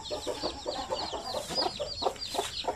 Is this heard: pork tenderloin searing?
no